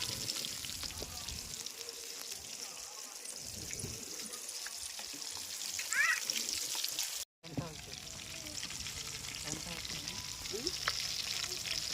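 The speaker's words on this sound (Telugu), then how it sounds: "మంట మీడియం ఫ్లేమ్లో పెట్టేసుకోవాలండి. నిదానంగా ఫ్రై అవ్వాలి." Breaded KFC-style crispy chicken fries slowly in oil over a medium flame, giving a continuous crackling sizzle with occasional light stirring clicks and a brief dropout partway through.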